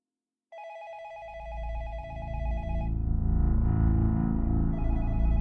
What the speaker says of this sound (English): she heard her phone ring again